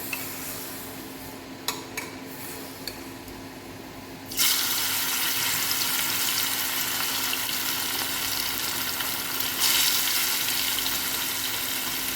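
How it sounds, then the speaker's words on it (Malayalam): A quiet kitchen with light taps and clinks, then a loud, continuous sizzle bursts in as marinated fish for pickle hits hot coconut oil and keeps frying. "ഇത് വെളിച്ചെണ്ണയിലാണ് വറുത്ത് വറുത്തെടുക്കുന്നത്"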